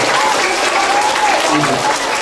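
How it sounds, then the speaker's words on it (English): Children in a school assembly audience at an elementary school applaud together, a steady, dense wash of clapping that fills the room, with scattered young voices and chatter mixed in. "give Lola a round of applause"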